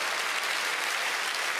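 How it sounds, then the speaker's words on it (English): Audience applause at a comedy stand-up show, steady dense clapping filling the whole moment at even loudness with no voice over it. "oh, you're clapping"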